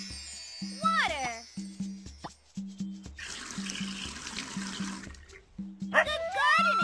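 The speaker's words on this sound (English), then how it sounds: "Water." Cartoon water pouring during a magic gardening scene, a broad hissing splash lasting about two seconds in the middle, set between bursts of cheerful children's-show voices and sparkly magic effects.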